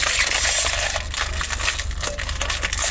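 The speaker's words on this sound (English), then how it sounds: "If I can open the package." Crisp crinkling and crackling of a plastic pretzel bag being torn open, busy and close, with no voices.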